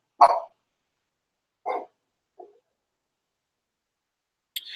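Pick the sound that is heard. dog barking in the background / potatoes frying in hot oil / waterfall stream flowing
dog barking in the background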